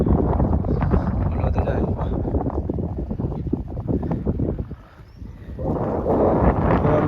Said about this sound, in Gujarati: મસ્ત મજા ઠંડી ઠંડી હવા આવે